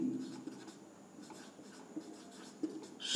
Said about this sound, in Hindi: तो बच्चों यहाँ पे मैं लिख रहा हूँ, नोट में लिखेंगे